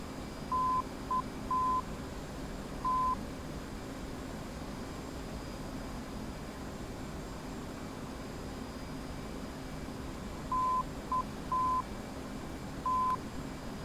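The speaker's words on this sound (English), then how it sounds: "When a TACAN beacon is selected, you will also hear the coded ID." Two groups of short steady beeps in a Morse-like dot-dash pattern, one near the start and one near the end, over constant faint hiss: a TACAN navigation beacon's coded ID tones in an F/A-18C cockpit in DCS.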